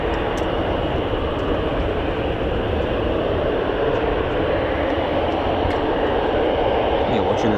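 Military fighter jet, an F-15 or F-35 of the US Air Force 48th Fighter Wing at RAF Lakenheath, producing a loud, steady, broadband engine roar that holds constant throughout.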